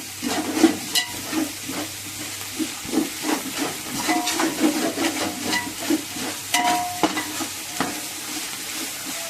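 Mint is stirred into hot oil in a pan while cooking mutton biryani, giving a soft steady sizzle broken by repeated scraping and clinking strokes of a spoon, close and moderately loud.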